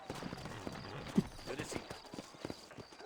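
Horse hooves clip-clopping at a steady walking rhythm in the Western video game Red Dead Redemption, set in New Austin, fairly faint and close, with a brief snort or whinny partway through.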